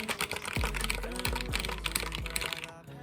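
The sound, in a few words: typing on Womier V-K66 mechanical keyboard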